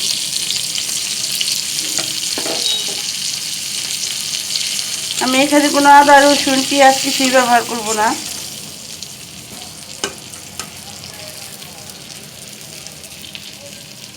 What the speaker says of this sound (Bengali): কপিগুলো ভাজা হয়ে গেছে এখন আমি দিয়ে দিব হলুদ মরিচ ও ধনিয়ার গুঁড়া একসাথে